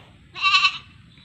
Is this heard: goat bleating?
yes